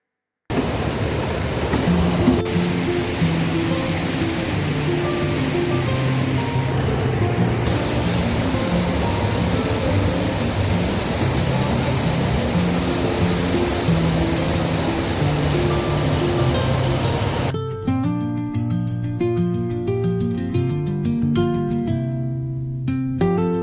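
Rushing river water at night beside a fishing spot, a loud, steady broadband roar that runs the whole length, with music playing over it that becomes more prominent near the end.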